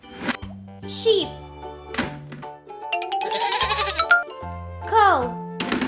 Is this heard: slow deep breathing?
no